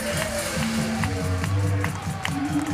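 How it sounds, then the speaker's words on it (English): A crowd roars at a freestyle football world final in Lecce, Italy: a dense, sustained wash of crowd noise mixed with loud music and a commentator talking over it. "The crowd is going wild."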